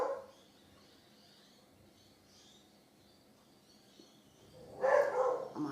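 A dog barks in a short burst near the end, reacting to a neighbour's lawnmower, after a stretch of quiet backyard ambience with faint birds.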